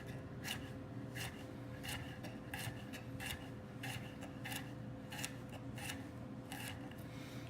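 A knife chopping matchstick-cut pieces into quarter-inch cubes on a cutting board, with a steady run of crisp, evenly spaced cutting clicks over a low constant background hum.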